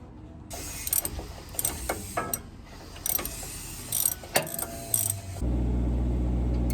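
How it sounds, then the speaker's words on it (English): Screws are tightened by hand while a Superunner kit is installed on an OBS, heard as bursts of close ratcheting clicks with short pauses between, ending in a steady low hum. "I managed to get all these screws tightened down."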